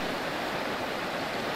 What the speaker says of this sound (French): Et ce ruisseau, à l'origine, qui s'est transformé là pour le moment en torrent, passe en dessous.